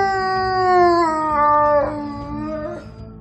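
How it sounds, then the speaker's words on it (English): A wolf howls in a long, clear, sustained note that bends in pitch and tapers at the end, heard alone and up close. "Each wolf's howl is unique."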